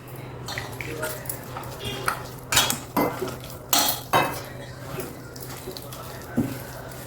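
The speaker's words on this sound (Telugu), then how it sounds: "ఇప్పుడు ఇందులోకి కొంచెం కొంచెం నీళ్లు పోసుకుంటూ కలుపుకుందాం" Gram flour batter for boondi is stirred in a bowl as water is poured in little by little, giving repeated clinks and scrapes of a spoon against the dish, with several louder knocks, close up under a steady background hum.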